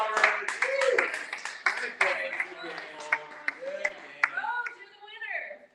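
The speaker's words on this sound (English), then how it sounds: "Give a huge round of applause for our ping pongers." Audience applauding ping pong winners at a launch day event, with scattered, uneven claps that pop out sharply while voices and cheers carry on throughout.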